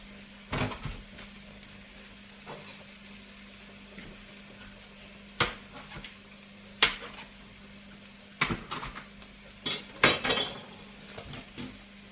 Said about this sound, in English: when your onions start to become a little bit translucent, that is where we're going to add the mince